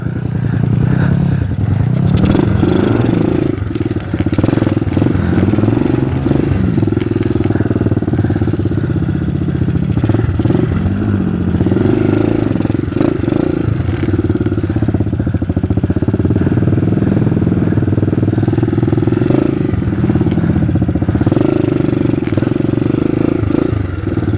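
A trail motorcycle engine runs loudly and close for a long stretch, revving up and down repeatedly with a rough, clattering mid-range growl.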